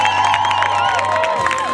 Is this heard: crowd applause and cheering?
yes